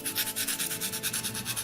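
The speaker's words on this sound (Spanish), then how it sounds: "con una lima, puede ser con una lima para uñas o una lija muy suave, simplemente lo vamos lijando así" A nail file or fine sandpaper rubs quickly back and forth along an edge during a craft project, a steady, raspy scratching in a regular rhythm with no speech.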